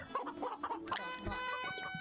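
Chickens in VRChat give a close, brief run of clucks that ends in a drawn-out, rising squawk, with no talk over it.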